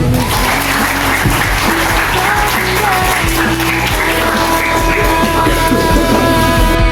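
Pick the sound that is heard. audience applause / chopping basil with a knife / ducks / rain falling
audience applause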